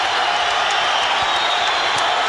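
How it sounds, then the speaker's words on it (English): A boxing crowd on its feet at an Atlantic City fight, a loud, steady wash of cheering and applause with no gaps. "Crowd on its feet"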